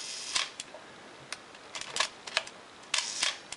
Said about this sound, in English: Even the slow shutter speeds all sound good.